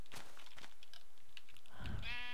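Several short sheep bleats in Minecraft, followed by a longer, louder bleat at the end, with light clicking in between.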